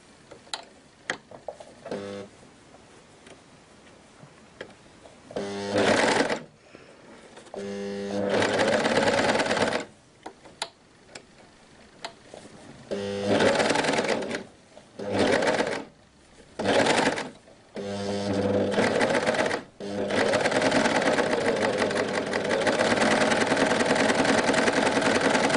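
A sewing machine runs a rolled hem around the edge of a skirt ruffle in repeated bursts of rapid whirring stitching, some long and some short, separated by quiet pauses and faint handling sounds.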